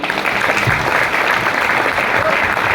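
An audience applauding, dense, steady clapping from a large crowd that continues loudly throughout, with a few voices faintly mixed in.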